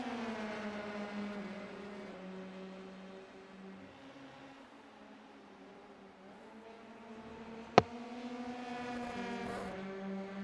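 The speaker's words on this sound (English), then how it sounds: "So a lot of cars going off track now" Race cars in a racing video game drone faintly and steadily, with one engine tone holding then dipping and others layered beneath; a sharp click lands near the end before the engines swell slightly again.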